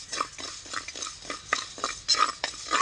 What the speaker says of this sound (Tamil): இப்போ பயிரை கொட்டிக்கலாம்